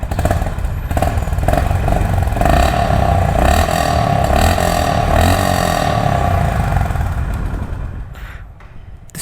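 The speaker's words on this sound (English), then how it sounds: "This is how it sounds when it starts." A Honda CB350RS motorcycle starts up and its exhaust note holds a loud, steady, throbbing idle up close for several seconds before tapering off at the end.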